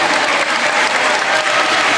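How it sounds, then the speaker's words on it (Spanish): Loud, dense applause fills the Salón Dorado at a government ceremony in Peru, a continuous roar of many hands clapping without a break. "incesantes aplausos en Salón Dorado con la mención de Freddy Otárola, ministro de Trabajo"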